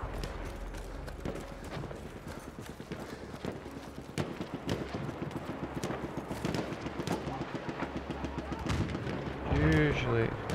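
Horse hooves clip-clopping in the Battlefield 1 beta, a steady run of hoofbeats mixed with distant gunfire and battle noise, with a voice speaking briefly over the top near the end.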